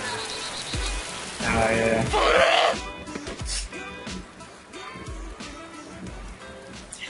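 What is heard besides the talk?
rain in the video game DayZ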